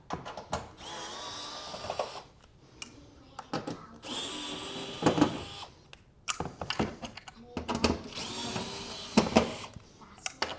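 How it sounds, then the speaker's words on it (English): A power drill backs sheet metal fasteners out of the rear panel of a Whirlpool WOS51EC0HS wall oven, several short whirring bursts separated by pauses, with clicks and handling noises in between. "There's a whole bunch of sheet metal fasteners that you're gonna have to remove."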